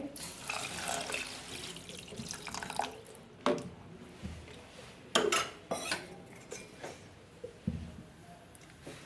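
Water splashing and running into a metal pot for cooking coconut rice, followed by several sharp clanks of utensils against cookware.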